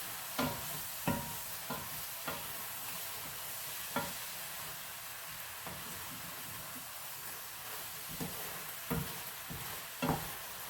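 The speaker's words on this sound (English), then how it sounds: "Just cook them for another 2 to 3 minutes" Chicken manchurian fries in a pan with soy sauce, giving a steady sizzling hiss broken by sharp stirring clacks and scrapes of a utensil every second or so, with no talking.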